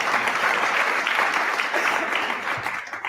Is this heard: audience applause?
yes